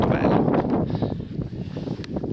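Strong wind gusts buffeting a mountain ridge high in the Apuan Alps, roaring steadily and close with rustling turbulence throughout, with no speech over it.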